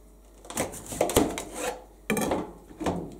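A knife slices through a half-cut daikon radish, cutting it in half for homemade takuan pickles: two close bursts of crisp, rasping cutting against a board with a short pause between them.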